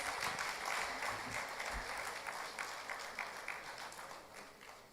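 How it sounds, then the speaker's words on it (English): A conference audience at the Nigerian Bar Association's annual business law event gives a round of applause while photos are taken: a continuous, fairly faint patter of many hands that slowly fades over several seconds. "Please, let's give them a round of applause while they take pictures."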